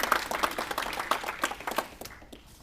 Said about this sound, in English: Let's give a round of applause for Matt.